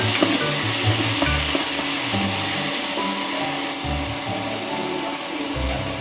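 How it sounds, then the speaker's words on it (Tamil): Chopped tomatoes fry in a pan with ginger-garlic paste for vegetable biryani, a steady close sizzle running throughout under repeated scraping stirs of a spoon against the pan, with no voices. "தக்காளி 2 கட் பண்ணி வச்சுருக்கிறது போடுறேங்க. அது ஃப்ரை ஆகட்டும்."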